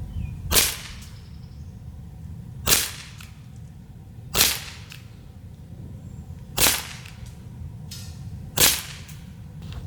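Five sharp snapping shots from a Glock 19 Gen 5 CO2 blowback .177 BB pistol, evenly spaced about two seconds apart, each a crisp crack standing alone over quiet background with no talking.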